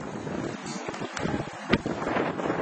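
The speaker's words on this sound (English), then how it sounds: "the wind is really bad." Strong wind roars and buffets steadily over open water, with gusty rumbling and occasional sharp bursts of wind noise; no voices.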